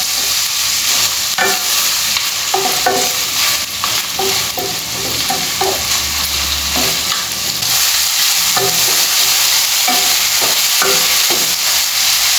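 Prawn curry with fresh and dry mango seeds simmers and sizzles in a pan over medium flame, a steady frying hiss broken by repeated scraping stirs of a spoon against the pan, close and loud with no talk.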